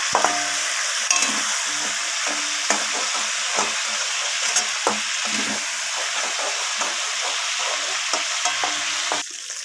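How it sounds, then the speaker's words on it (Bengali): Chicken pieces fry in oil while being stirred, producing a loud, steady sizzle with repeated scraping knocks of a spatula against the pan, close up and without speech. "দেখুন আমি মাংসগুলোকে এইভাবে নাড়িয়ে ছাড়িয়ে ভেজে নেব"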